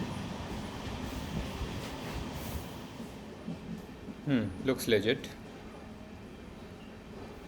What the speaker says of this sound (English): The Matsyagandha Express runs like a fast passenger train in Karnataka.